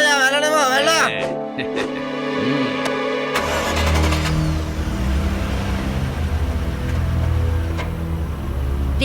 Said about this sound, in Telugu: దేవా, ఈ గార్బేజ్ ట్రక్ ఇటువైపుగా ఎందుకు వెళ్తోంది?